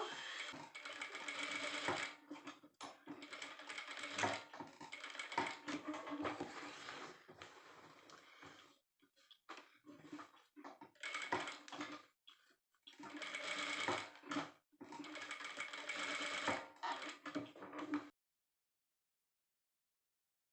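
A sewing machine stitches a kurti top in bursts of fast, even whirring runs, several seconds each, separated by short pauses and clicks, close and alone, ending in silence.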